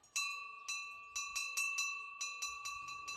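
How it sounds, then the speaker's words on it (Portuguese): Small bell rung repeatedly to announce food is ready at a Hare Krishna eco village, about a dozen bright, ringing strikes in an uneven rhythm, clear and fairly close with no talk. "a gente só sabe que está pronto porque a gente ouve o sininho"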